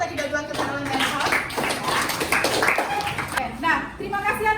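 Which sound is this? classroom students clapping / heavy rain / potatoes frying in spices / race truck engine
classroom students clapping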